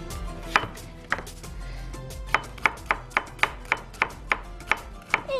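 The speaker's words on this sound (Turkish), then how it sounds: "Soğanı böyle piyazlık doğrayacağım." Onion being sliced thinly with a knife on a cutting board in a home kitchen, a steady series of about a dozen crisp, close chopping taps alone with no talk.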